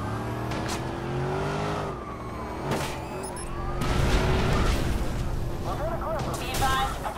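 Police car sirens wail and warble through a chase in the video game Watch Dogs, rising and falling over a rumbling, revving car engine, with sharp bursts and knocks mixed in.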